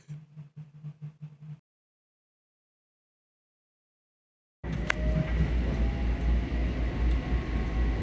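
Steady rumbling train noise on the rails begins after a few seconds of silence, loud and continuous with a low drone and occasional squeals.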